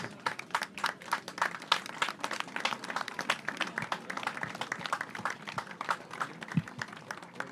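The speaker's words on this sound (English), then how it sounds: "Give them a round of applause there for the refs." Scattered clapping from a small group at a junior inter-county sports match, steady and uneven for several seconds, with no voices over it.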